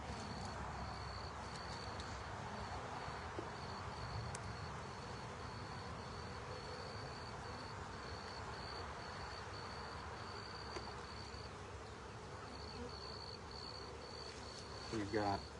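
Honey bees buzzing around an open beehive during a spring inspection of drone and worker comb, a steady close droning hum that runs throughout with a faint high whine above it.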